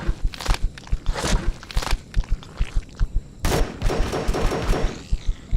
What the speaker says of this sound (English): That's our new gun, by the way.